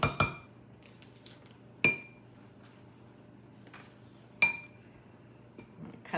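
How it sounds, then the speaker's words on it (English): Fork cutting a quarter cup of butter into streusel in a bowl: three or four sharp metallic clinks spaced a couple of seconds apart, close, over quiet background. "Cut that in with a fork"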